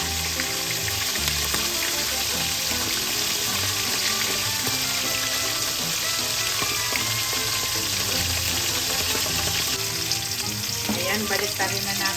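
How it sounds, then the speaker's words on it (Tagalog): Fish sizzles loudly in hot oil with constant crackling and popping, occasionally stirred or turned, with no voices. "tayo magluto ng pritong isda"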